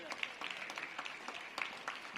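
Audience at a ribbon cutting for a modernized high school giving a short round of applause, scattered claps over a brief span with a voice speaking over it.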